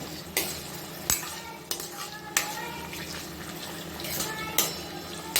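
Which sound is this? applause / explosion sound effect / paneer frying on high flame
paneer frying on high flame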